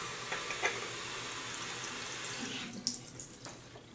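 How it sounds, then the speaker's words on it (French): Running tap water splashes over a shaving brush at a bathroom sink, a steady hiss with soft gurgles and a few brief drips near the end. "Mouiller la brosse."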